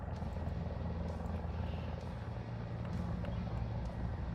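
A Mi-35 attack helicopter in the War Thunder combat game flies close by, its low rotor and engine drone rumbling continuously at a steady, fairly quiet level with no one speaking.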